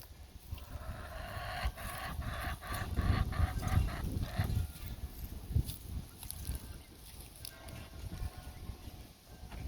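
Chickens, including baby chicks in a run, cluck and peep close by in a busy cluster of calls, with rustling and light movement around them.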